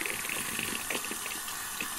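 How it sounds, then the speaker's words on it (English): Water runs steadily from a tap into a sink while getting ready for a shave, a close, continuous gushing hiss with no talking. "We're going to go ahead and turn on some water"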